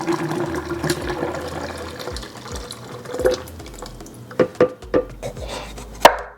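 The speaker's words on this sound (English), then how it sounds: "I'm cutting up this lemon, and I'm gonna cut this up into 4 pieces" A knife chops a lemon into four pieces on a board for fresh pineapple ginger juice, with several sharp, distinct cuts near the end over a low background hum, and no voices.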